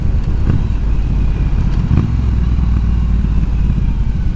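A heavy 500-pound motorcycle's engine runs close by with a steady, throaty rumble and faint mechanical clatter. It holds an even idle throughout the short stretch, with no voices.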